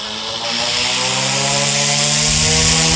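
A Goosky S2 RC helicopter's electric motor spun up in mode 1, a loud, close, steady high whine with stacked tones that climb as the rotor speeds up, filling the whole stretch with no talk.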